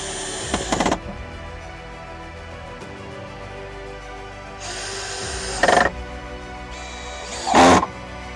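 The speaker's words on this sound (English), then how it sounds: "Alright, just screwing these last ones." A power drill drives screws into a wooden boat in three short whirring bursts, the last two rising in pitch as each screw seats, with a quiet background hum between them.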